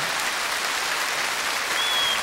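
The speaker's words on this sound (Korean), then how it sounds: "박수 많이 쳐달래" A studio audience at a televised Korean amateur singing contest applauds in a steady, even wash of clapping, loud and continuous throughout with no talk over it.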